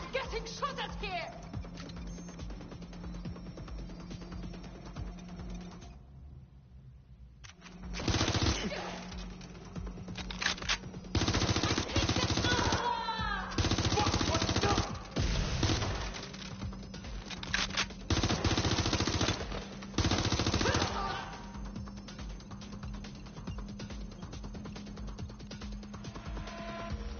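Rapid bursts of automatic gunfire in Watch Dogs: Legion, loud and close, arriving in repeated volleys over a steady electronic hum, with brief quiet gaps between the clusters of shots.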